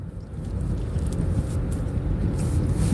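A car rolls along at low speed while the driver holds the gas pedal gently and steadily, giving a smooth, continuous low engine and road hum with no speech.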